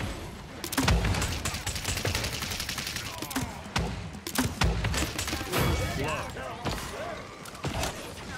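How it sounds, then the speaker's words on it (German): Gunfire in the video game Paladins, scattered bursts and sharp shots at irregular intervals amid busy game noise, some loud and close, others quieter. "Da wird schon geschossen."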